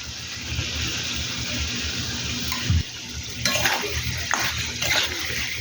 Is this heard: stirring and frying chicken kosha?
yes